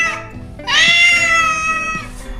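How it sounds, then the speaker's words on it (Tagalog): A hungry cat meows while waiting to be fed: a brief chirp, then one long, drawn-out meow close by, over a low household background. "Nakong may pusa dyan, oh. Nag-aabang pala siya."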